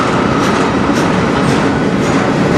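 CN regional manifest train 492 rolling past close by, a loud, continuous rumble with rhythmic clickety-clack of wheels over rail joints.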